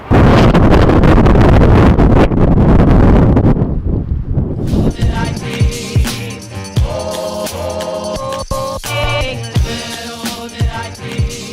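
Cold wind buffets the microphone in loud, rumbling gusts for several seconds, then drops away as a person starts talking over quieter outdoor background.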